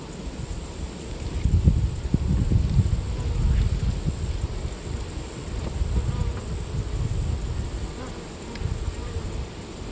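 Honeybees buzz around an open beehive as the lid comes off during an inspection, a dense continuous drone from many insects with some wind noise and faint handling sounds beneath.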